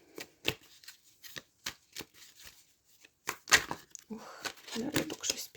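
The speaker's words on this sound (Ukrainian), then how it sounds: "мішати карти." Repeated crisp riffling and slapping of tarot cards being shuffled, in short bursts with pauses, ending in a busier stretch of rustling.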